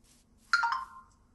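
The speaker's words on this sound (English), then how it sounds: "And there goes my phone." A phone ringtone sounds once, a short bright electronic chime rising briefly over a faint background hum.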